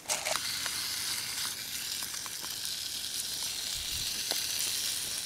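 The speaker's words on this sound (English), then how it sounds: "tipping it out of the bag and frying it. Add the sauce, add the noodles" Noodles and sauce fry in a pan, giving a steady, close sizzle with occasional stirring clicks and scrapes and no talk.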